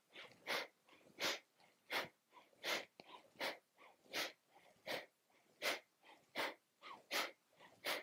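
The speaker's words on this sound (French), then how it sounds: "des petites expirations secs de chaque côté" Short, sharp exhalations during a yoga breathing exercise, about a dozen forceful puffs of breath in a steady rhythm, close and clear with no talking.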